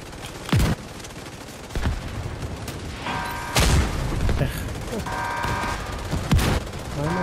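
Gunfire and booming mortar shots in a team shooter game come in repeated sharp bursts with heavy low thumps, loud and close, while players talk over the action.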